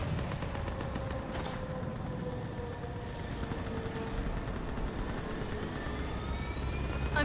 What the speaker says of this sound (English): Get that gunship moving!